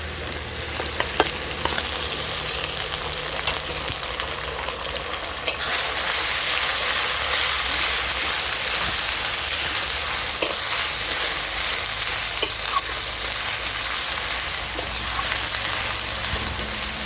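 Onion paste sizzling in hot oil in a pan for a katla fish kalia, a continuous loud frying hiss broken by occasional scrapes and knocks of stirring, with no talking.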